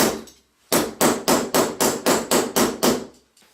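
Silver being hammered flat for jewelry, about nine loud, evenly spaced metallic blows close up, each ringing briefly before the next, with a softer tap at the very end.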